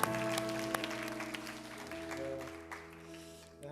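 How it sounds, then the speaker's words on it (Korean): Congregation applause at a Korean church young-adult worship service, a dense wash of clapping with sustained organ or keyboard tones underneath. "주님께 힘찬 박수."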